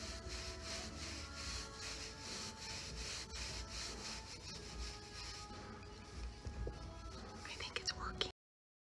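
Dark wax is rubbed by hand into a wooden piece, giving a steady, close, soft scrubbing rasp of rhythmic strokes that fades into a few light knocks near the end, with quiet talk underneath.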